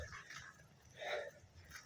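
A dog gives a soft whimper with faint panting, brief and somewhat distant, with no one talking.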